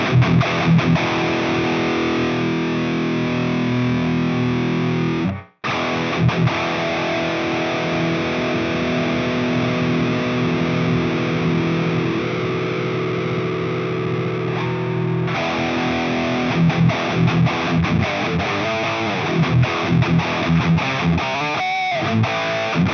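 Heavily distorted electric guitar plays chugging riffs with a thick, compressed tone, cutting out briefly before resuming; no voices.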